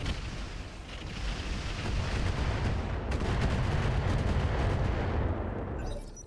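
Mech weapons fire in the RogueTech battle game, a dense, continuous roar of booming cannon blasts and rapid gunfire that holds loud throughout, then abruptly cuts off near the end.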